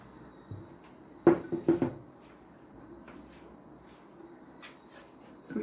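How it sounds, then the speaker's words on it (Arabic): A frying pan knocks and clatters as it is handled in a kitchen, with a few sharp metallic clanks close together followed by softer faint rattles over quiet background. "غنجيب المقله ديالي هذه اللي غنطيب فيها"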